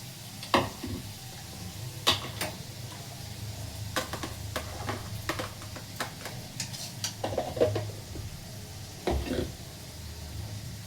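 Chopped tomatoes frying in a pan with a soft, steady sizzle, broken by scattered sharp clinks and taps of a utensil, close and moderately quiet.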